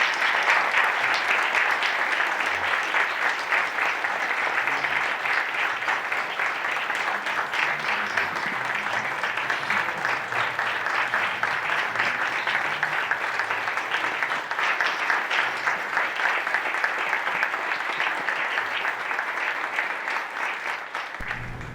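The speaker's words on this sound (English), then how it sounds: "So how about one last big round of applause for all of these great students?" A large audience at an annual STEM celebration for students gives a long, steady round of applause, dense clapping sustained at an even level throughout with no talk over it.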